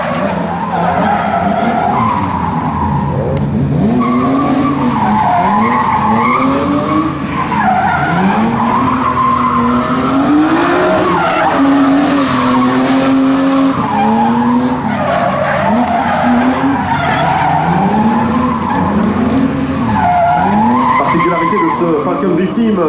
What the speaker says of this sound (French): le pilote hollandais avec une autre BMW M3